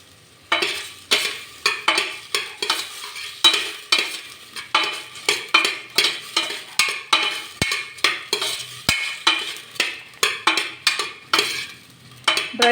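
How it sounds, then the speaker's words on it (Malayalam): Ginger garlic paste and dry lemon are sautéed in a pan for chicken mandi, with a quick run of sharp spatula scrapes and stirs over a faint sizzle, close and without talk. "ഈ ജിഞ്ചർ ഗാർലിക് പേസ്റ്റിൻ്റെയൊക്കെ പച്ചമണം മാറുന്നവരെ നമുക്കൊന്ന് വഴറ്റി കൊടുക്കാം."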